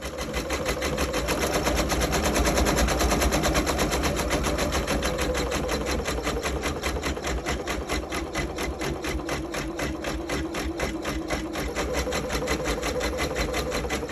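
A computerized embroidery machine stitches a design onto a sweatshirt held in an EZ frame, running as a steady, loud, rapid needle chatter with a constant mechanical hum throughout, no voices.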